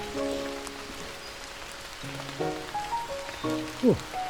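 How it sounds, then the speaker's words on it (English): Heavy rain falling during a walk in Cornwall, heard from under a little bridge: a steady broadband hiss of downpour held throughout, with tonal bird-like whistles above it. "Right, the rain's getting quite heavy now."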